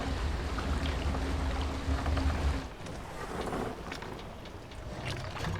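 A boat glides across water in the video game The Witness, a steady rushing wash of water and wind that eases off partway through, with no talk.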